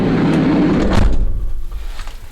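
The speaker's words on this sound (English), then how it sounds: "I just need to check the door shuts." A campervan door is shut once in a single loud, close thud partway through, with a brief rattle and quieter handling noises afterward.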